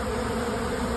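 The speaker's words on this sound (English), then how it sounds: "There are just bees everywhere." Honeybees swarm around a hive in a dense, continuous buzz that holds steady and close throughout.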